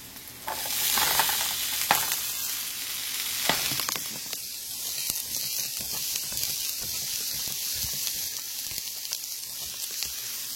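Onions and green peppers sizzle steadily in a frying pan, a close, continuous hiss with occasional stirring scrapes and clicks; no one speaks.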